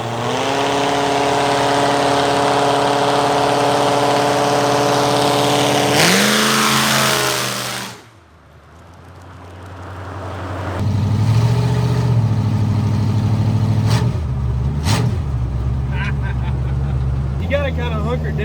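A Dodge Challenger on tall tires with highway gearing drives along, its engine droning loudly, rising and falling with throttle, dipping quiet briefly, then revving again under intermittent talk.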